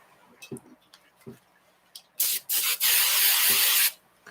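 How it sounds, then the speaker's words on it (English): Cheap hairspray hisses from an aerosol can in a few bursts, a short spritz followed by a longer steady spray, loud and close, after some quiet tapping and handling noises. "That was just hairspray, just cheapo hairspray"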